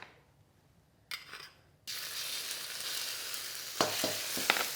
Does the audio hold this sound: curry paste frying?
yes